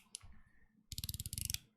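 A titanium POW mechanical fidget toy clicking up close, a single click followed by a quick rapid run of about a dozen crisp, even clicks, faint and with no talk.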